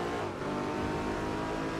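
A Pagani Zonda supercar in the racing game Midnight Club 3 roars continuously at high revs, its loud steady engine drone filling the moment without a break.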